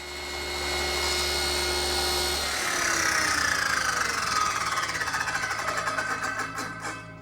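A table saw with its blade raised to full height rips the bead off a length of wood trim, the steady loud whine rising as the cut runs through, alone without voices.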